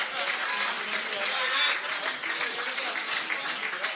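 Audience applause for a rock band at the Partillerock 2014 final: dense, steady clapping from a crowd, loud and sustained throughout with no pause.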